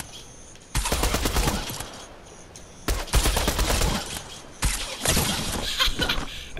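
Pumpkin gun shots fired in Fortnite, three loud heavy bursts with broad crackling blasts, each lasting over a second, separated by short quieter gaps of game ambience.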